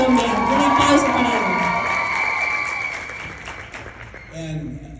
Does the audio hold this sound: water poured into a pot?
no